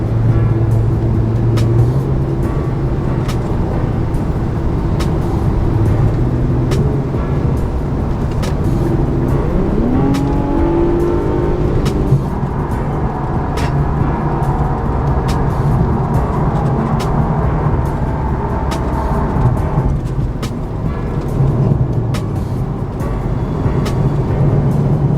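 Infiniti Q50 with a 3.0-liter twin-turbo engine and Invidia aftermarket exhaust, idling and revving after a cold start; a loud, steady exhaust drone with brief rises in pitch, heard close with no talking.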